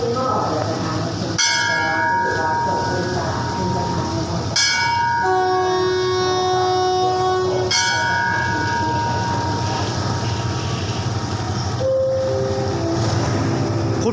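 Ordinary passenger train 211 at Chum Saeng station in Thailand sounds loud, sustained horn blasts over a steady engine rumble, with a bell ringing and shifting horn tones as it stands and moves at the platform.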